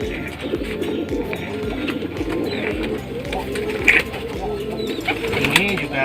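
Pigeons coo in a breeding loft, with soft, repeated throaty calls layered over one another nearby, while someone talks quietly underneath.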